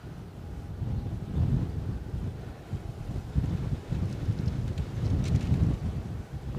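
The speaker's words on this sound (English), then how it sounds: "You can hear the wind." Wind buffeting a microphone at an outdoor airport plane-spotting spot, a continuous low rumbling roar with gusty swells throughout, no voices.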